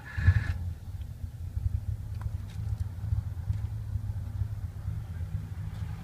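Cold classic car engine idling just after start-up, a quiet, smooth low rumble with a steady pulsing beat, close by and continuous with faint background clicks.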